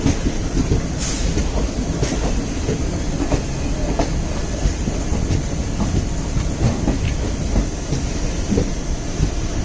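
A daily Wadi–Madgaon passenger train with LHB coaches runs steadily, its loud continuous rumble and rail noise carrying clickety-clack of wheels throughout, with no voices.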